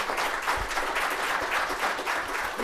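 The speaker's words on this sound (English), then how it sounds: "But let's give them a round of applause." At a county employee pinning ceremony, an audience gives a loud, sustained round of applause, dense overlapping clapping from many hands with no break.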